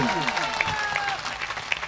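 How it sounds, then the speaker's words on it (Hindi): Audience applause rises at a bhajan satsang gathering, a dense steady patter of clapping with a voice talking over it through the short stretch. "ऐसे संतों के लिए, ऐसे युवाओं के लिए जोरदार तालियां बजा दीजिए।"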